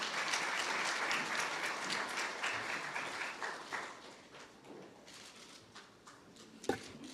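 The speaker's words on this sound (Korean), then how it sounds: "박수 부탁드립니다." Audience at a National Assembly policy event in Korea applauding as a speaker is invited to the podium, dense clapping that gradually thins and fades, then a sharp knock near the end.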